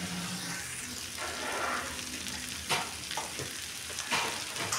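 Hot water hits spiced potatoes frying in a pan, setting off a loud, close sizzle that settles into steady frying, with a few sharp spatters and stirring clatters near the end.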